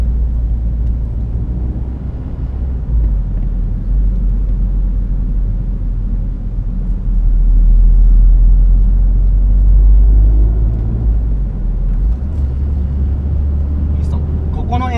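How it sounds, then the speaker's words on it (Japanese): A car running over rough, bumpy kerbs at Fuji Speedway gives a steady loud low rumble with road roar, swelling midway through, while a person talks. "ここの縁石は結構ガタガタになってるんで、乗ると結構ガッタンガッタン言うんですよ。"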